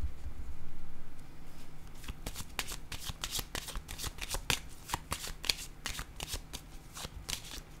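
Tarot cards riffled and shuffled by hand, a steady run of crisp flapping snaps up close, continuing for several seconds with no talking.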